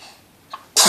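A person sneezes once, loud and close: a brief sharp intake, then a bursting explosive sneeze in a quiet room.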